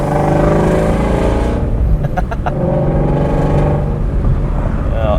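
Engine of a Shelby GT350R held around 3,500 RPM while driving; a loud, steady, dense rumble fills the whole stretch, with a brief rise in raspy upper tone midway and no speech.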